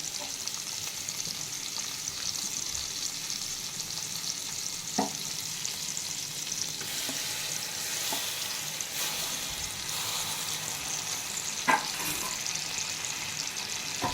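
Soaked toor dal and raw rice sauté in a pan for Kerala-style mor kulambu, giving a steady, even sizzle with a few soft scrapes and clicks from stirring, and no voices.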